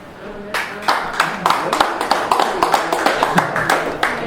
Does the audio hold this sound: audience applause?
yes